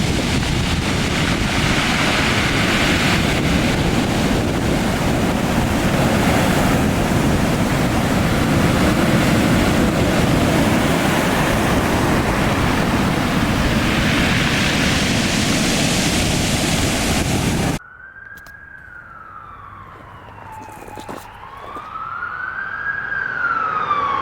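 Ocean surf breaks on a beach near La Push on the Olympic Peninsula, a loud, continuous wash of waves with swelling surges, cut off near the end by a quieter stretch with a wavering tonal sound.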